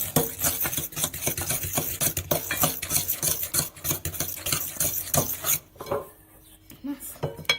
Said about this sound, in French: il faut vite mélanger. Pour ne pas que les jaunes cuisent